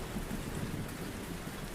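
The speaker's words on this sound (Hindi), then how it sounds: "और भयंकर वर्षा होने लगी और बुरी तरह से बिजली कड़कने लगी।" Heavy rain pouring in a sudden storm under dark clouds, a dense, steady roar with low rumbles of thunder beneath it throughout.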